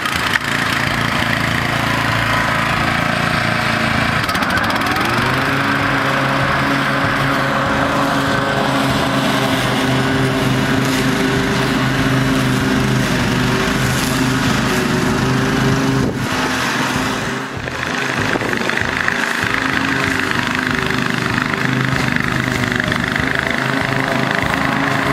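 A Toro 30-inch TimeMaster lawn mower runs steadily while cutting grass, a loud, close, continuous engine drone whose pitch shifts slightly as the load changes, with no talk.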